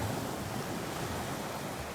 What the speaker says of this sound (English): I'm gonna wait for some of these waves to go by,